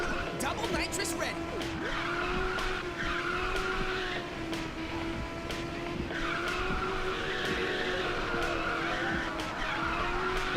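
Tires skid and squeal as a car drifts in the racing game Ridge Racer 6, a sustained wavering screech over a steady engine drone that runs almost the whole time, with a player talking over it.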